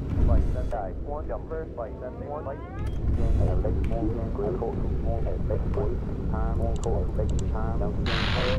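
Spitfire engines droning in the aircraft game Bomber Crew, a steady mechanical roar under near-continuous talk by a man, with a few short game effects cutting through.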